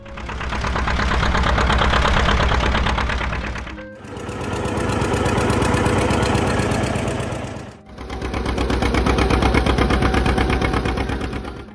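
Engine of a John Deere Model 70 tractor running with a loud, steady, rapid chugging rhythm in three sustained stretches separated by brief breaks, with no voices.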